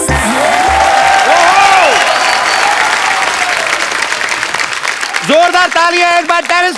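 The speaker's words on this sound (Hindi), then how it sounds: "जोरदार तालियां एक बार" A studio audience on The Kapil Sharma Show bursts into loud, sustained applause, with whoops and voices rising over the clapping toward the end.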